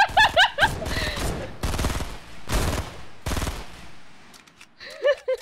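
Rapid bursts of automatic gunfire from a big gun in the Fortnite video game, several loud close volleys separated by short gaps, with a voice laughing over the shots.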